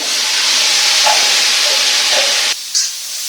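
Tomato and green chili paste hits hot desi ghee with cumin, giving a loud, close, continuous hissing sizzle that cuts off abruptly near the end. A brief clink follows.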